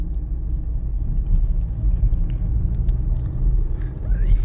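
A Volkswagen Taigun GT 1.5 drives along a Chennai street near the Napier Bridge, giving a steady low cabin rumble of road and engine noise with faint scattered clicks and a brief whine near the end.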